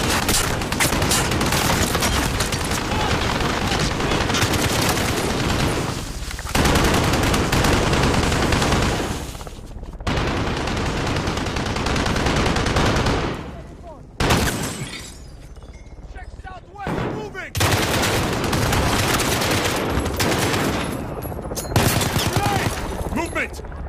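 Enemy machine gun fire in Call of Duty: Modern Warfare, dense and loud sustained bursts of gunfire with crashing, breaking impacts, dropping out briefly twice before resuming, with voices talking over the battle.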